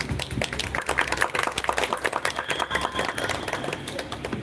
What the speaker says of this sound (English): Please give applause for all teachers in the world.